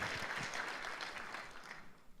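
Applause from a church congregation at a pastors' gathering, steady clapping across the whole moment, fairly close and moderately loud, with a faint voice mixed in underneath.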